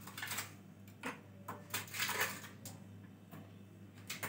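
Ice cubes dropped into peach juice, giving a series of soft, scattered clinks and plops at close range in an otherwise quiet kitchen.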